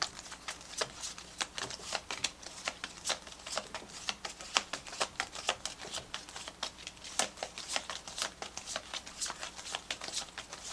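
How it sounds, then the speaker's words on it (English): Tarot cards shuffled rapidly by hand, a continuous close, soft riffling patter with crisp flicks, fairly quiet and with no talk over it. "so I'm going to choose from these cards here"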